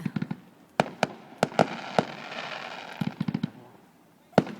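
Canada Day fireworks in Hanna, Alberta crack and pop in quick bursts, some in rapid clusters and others single, with a soft crackling fizz between volleys at moderate distance.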